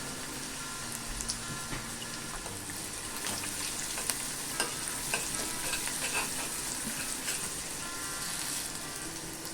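Okra frying in hot oil with curry leaves, onion, asafoetida and turmeric for a bhendavni curry, making a dense, steady crackling sizzle throughout, close and even, without talk.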